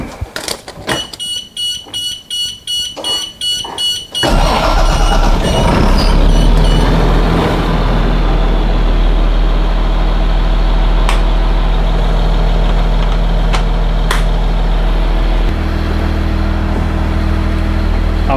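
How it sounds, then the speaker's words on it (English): A bus engine with an Allison transmission cranks with rapid repeated clicks, catches and roars up, then settles into a loud, steady diesel idle inside a shop. "So now I'm gonna start the engine."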